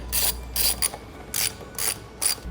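A ratchet fitted with an E18 socket loosens a strut brace bolt on a BMW N55 F3x, giving five bursts of rapid clicking close up, with short pauses between them.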